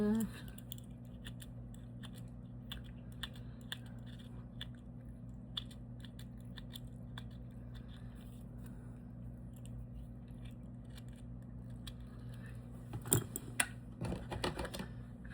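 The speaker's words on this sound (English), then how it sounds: "has these curved scissors" Curved scissors cutting dichroic-style craft film: faint, irregular crisp snips and crinkles close by over a low steady hum, with a louder cluster of cuts near the end.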